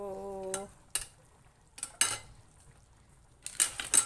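String beans and eggplant going into a pan, giving a quiet sizzle with a few scattered clinks and stirring scrapes against the pan and short pauses in between.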